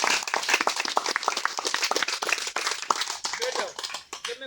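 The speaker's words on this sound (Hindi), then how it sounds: "जोर से एक बार ताली बजाओ।" A church congregation at a fasting prayer meeting clapping loudly together, a burst of dense irregular hand claps filling the whole stretch and thinning toward the end.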